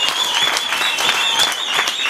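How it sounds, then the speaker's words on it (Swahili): Church congregation clapping for Jesus, a dense, sustained burst of loud applause from many hands filling the room, with no pause in the clapping. "Piga Yesu makofi mazuri sana."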